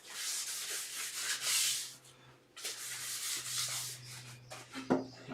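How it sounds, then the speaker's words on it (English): Excess glue is wiped off a freshly glued wooden dovetail joint for a sewing table, making steady close rubbing and scraping strokes with a brief pause midway and a sharper knock near the end. "So wipe off the excess glue that's just popped through."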